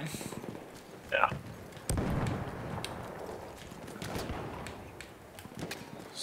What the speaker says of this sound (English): Someone's fucking shooting at us.